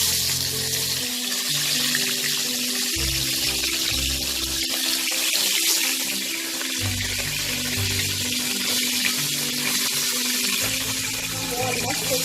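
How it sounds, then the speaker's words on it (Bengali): Boal fish fry in hot mustard oil in a kadai, a continuous bright sizzling hiss that runs throughout, layered over a low, uneven humming rumble. "এবার আমি মাছগুলোকে ভেজে নেব।"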